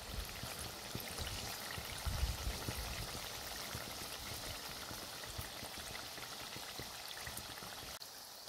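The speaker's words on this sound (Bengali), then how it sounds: "একটু লাল লাল করে ভেজে নেব।" Ripe palm sim pitha with sesame bubbles in a small amount of hot oil, giving a soft, even, continuous sizzle and fizz throughout with no talking.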